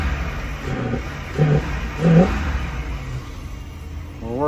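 Vintage RV engine with newly fitted fuel injection, idling low with three short throttle blips that swell and fade, each rev brief and slightly stuttering, heard close with no talking.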